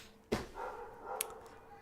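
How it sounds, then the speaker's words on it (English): A dog barks outdoors in the background: one sharp bark near the start, then a fainter yip later, over steady room noise. "if you're hearing any barking in the background, apologies for that"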